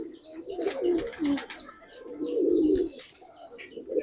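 A pigeon kept as a pet coos at close range in soft, throaty bursts, several rolling calls that rise and fall across a few seconds.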